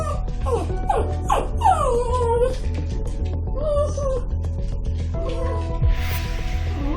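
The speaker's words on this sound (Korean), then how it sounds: "어머니가 문 밖을 나섬과 동시에 쉴 새 없이 짖기 시작하는 복실이." Dog Boksil, left alone in a shop, whimpers and yips in rapid, high, wavering cries with short barks, close and insistent throughout, over a low pulsing hum.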